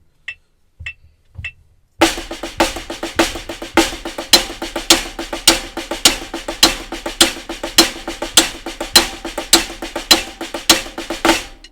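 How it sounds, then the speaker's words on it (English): Drum flams on a practice surface played against a metronome click, a few isolated clicks first, then a steady, even stream of sharp double-stroke hits, close and loud, with no talking. "So with a click, it will sound like this."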